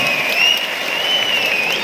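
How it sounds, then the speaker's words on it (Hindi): At a Janmashtami Matki Phod League stadium event in Delhi, a large crowd applauds in a continuous, dense wash, with a thin whistle-like tone drifting over it. "बस थोड़ी सी और तालियां मिल जाए तो मजा आ जाएगा।"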